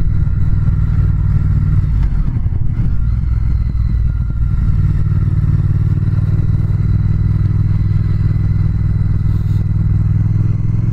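A 2019 Triumph Speed Twin motorcycle engine pulls hard under acceleration, a loud continuous low-pitched drone with rushing wind noise, steady from start to finish.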